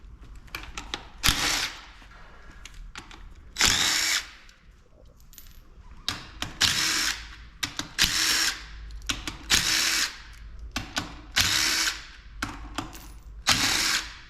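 Power drill or electric impact driver used to remove the shifter assembly from an R154 transmission, working 12 and 14 mm fasteners: repeated loud bursts of whirring, each a second or so long, separated by quiet gaps and small metallic clinks.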